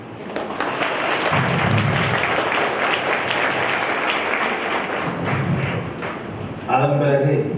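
Sustained applause from the audience at a college's first convocation ceremony, a dense, loud patter of clapping hands filling the hall with a few heavier thumps near the end.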